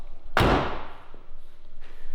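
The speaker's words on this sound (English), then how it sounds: "It's the door hinge, so when you open it, it locks itself in place." A single loud metallic clunk with a brief ringing tail as a Datsun 280Z door hinge locks in place, followed by quieter background noise and a faint second click near the end.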